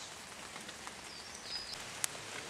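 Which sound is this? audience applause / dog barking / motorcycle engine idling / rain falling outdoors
rain falling outdoors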